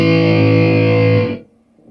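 An electric guitar through a Zoom G3Xn multi-effects unit on a chamber reverb setting rings a sustained distorted chord for over a second, then cuts off, leaving a brief, quiet reverb tail.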